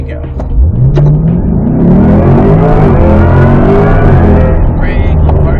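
Chevrolet Corvette E-Ray in track mode at the National Corvette Museum, heard from inside as the engine note rises steadily under hard acceleration, loud and close, with tyre and road roar beneath.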